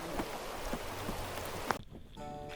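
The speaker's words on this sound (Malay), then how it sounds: "Hujan turun dengan lebat ni." Heavy rain pours onto a lake during an evening fishing trip, a dense steady hiss with scattered drops, close and continuous before cutting abruptly to quieter sound near the end.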